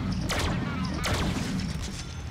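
Gunfire bursts from the video game Deadpool, two or three sharp loud volleys in quick succession over continuous game background noise.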